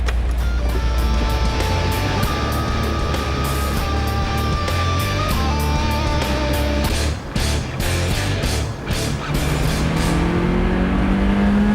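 An MG F Trophy sports car engine accelerating hard, loud and close, the revs climbing through gears with rhythmic pulses of exhaust crackle and a rising whine near the end.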